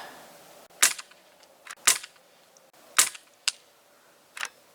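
Five sharp snapping shots from an Umarex APX air pistol fired at a target, spaced about a second apart, each a crisp near crack with a faint tail over quiet background.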